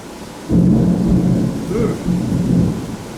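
Thunderstorm in the Brazilian rainforest: a deep thunder rumble swells in after a brief quiet start and rolls on loudly, with rain noise steady underneath.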